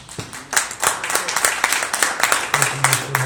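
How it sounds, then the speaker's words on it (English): A crowd applauds with dense, steady clapping that continues throughout, fairly close, with a faint voice murmuring underneath toward the end. "Let's give them a round of applause."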